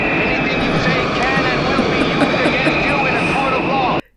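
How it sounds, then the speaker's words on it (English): Airplanes roar loudly overhead in a film scene at an airport apron, a dense continuous engine drone that swamps everything and cuts off abruptly at the end. "He has to yell because of the planes."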